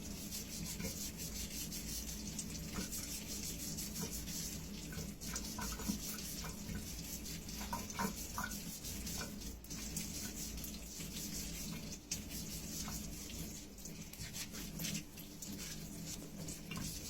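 Steady rubbing and scrubbing of a Scotch-Brite pad against green banana skin under running tap water, a continuous close wash of sound with small clicks and knocks.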